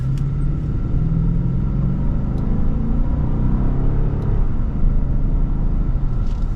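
A 2021 Genesis G90 AWD luxury sedan's V8 engine hums steadily from inside the cabin as the car pulls away and accelerates smoothly, with low rumbling and no talking.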